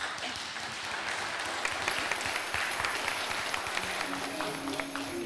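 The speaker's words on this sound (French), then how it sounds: "Est-ce qu'on peut applaudir cette fille?" A church congregation at Mass applauds a girl who has just sung, a steady wash of moderate clapping heard from some distance, with faint tonal sounds entering near the end.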